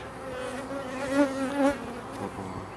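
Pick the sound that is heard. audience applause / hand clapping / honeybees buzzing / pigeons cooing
honeybees buzzing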